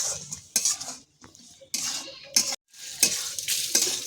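Crab sautéing in a pan with ground spice paste, bursts of loud sizzling broken by stirring strokes and metal utensil scrapes against the pan, with short pauses between.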